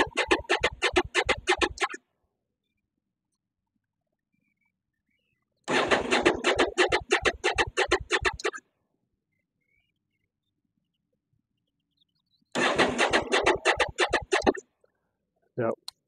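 A Honda VTR1000 Firestorm motorcycle is being cranked by its starter in three separate attempts, each a rapid rhythmic churning lasting two to three seconds, with silent gaps between them and no catch. The engine never fires.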